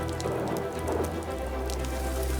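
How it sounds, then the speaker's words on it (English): Rain falls over a mountain valley, a soft, steady hiss of drops pattering on surfaces, faint and unbroken throughout, with no voices. "At long last, rain, a few kilometers away."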